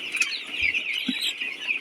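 Sonali chickens on a poultry farm give soft, repeated clucks and high chirps, a busy flock heard close up without any talking.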